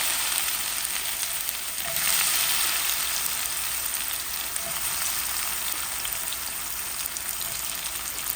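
Boiled cassava fries in hot oil with a steady, dense sizzle and crackle that holds at an even level from start to finish, with no voices.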